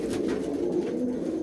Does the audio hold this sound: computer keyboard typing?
no